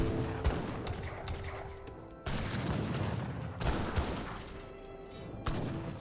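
Cannon fire in an Age of Empires strategy battle, with crossbows in the fight: dense bursts of booming shots and crashing impacts, continuous and layered, with a couple of sharp surges, heard alone at moderate level.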